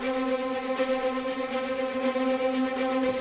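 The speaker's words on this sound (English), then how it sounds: "they kind of do a soaring motion, which has more of a kind of slurred sound to it." Orchestral strings playing a slurred, soaring legato line, sustained notes gliding smoothly into one another at moderate volume with no voices.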